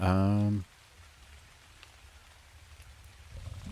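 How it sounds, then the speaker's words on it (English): Steady rain hiss fills an outdoor scene in the video game ARK: The Island, opening under a brief loud tonal game sound, then continuing as a soft, even patter that swells slightly toward the end. "All right, so good rain."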